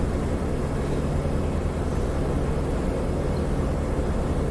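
Inside a P-47D cockpit in DCS World, the piston engine drones loud and steady at cruise as a dense, continuous roar with a low rumble and no breaks.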